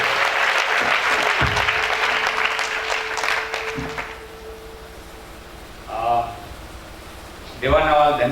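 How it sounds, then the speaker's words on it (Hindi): A church crowd claps loudly for several seconds before the applause fades, followed by short bursts of someone speaking. "क्यों ना हम जोरदार तालियों से उनका स्वागत करें।"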